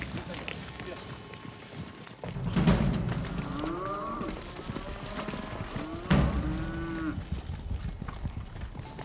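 A bull lows close by at a manade bull farm in the Camargue, two deep drawn-out bellows about four seconds apart amid rustling, hoof movement and outdoor ambience.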